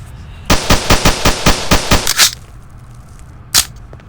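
A turret in the Garry's Mod video game fires a rapid burst of about nine loud, sharp shots, goes quiet, then lets off a single final shot.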